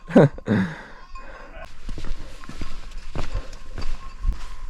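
Sheep hooves clop and patter across hard ground in an uneven rhythm, close by, after a brief animal call at the start.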